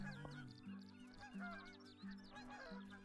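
Canada geese in the video game Call of the Wild honk repeatedly in a noisy overlapping chorus, with rhythmic nasal calls from several birds layered over a low droning background.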